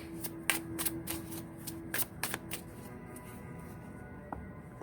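Close, crisp riffling of Lo Scarabeo Royo Dark Tarot cards being shuffled in several quick bursts, quiet between them, with no voices.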